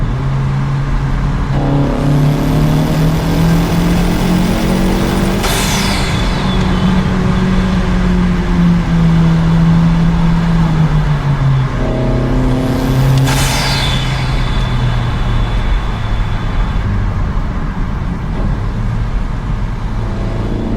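250 WHP Honda Civic Si accelerating hard, loud engine rising in pitch through the gears with sharp shifts in between, heard from close inside the car, then climbing again through a second run.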